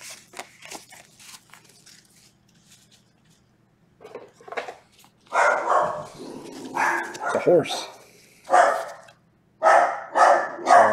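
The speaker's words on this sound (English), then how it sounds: "Sorry about the dogs." Dogs bark in bursts nearby, loud and irregular, alongside a person talking in an indoor room.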